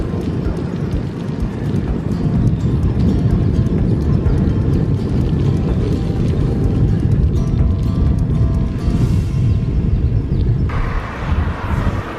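Steady clip-clop of horse hooves on a hard road surface in the Netherlands, fairly loud and continuous, with outdoor rumble underneath.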